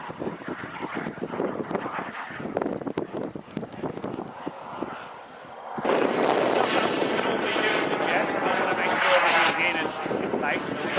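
A Viperjet model jet passes overhead during a proving flight, its turbine roar swelling to a steady loud whine under wind noise, with someone talking over the first half.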